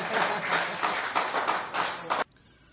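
An audience applauds guest Dan Bigras, a steady burst of clapping at close range that stops abruptly after about two seconds, leaving near silence.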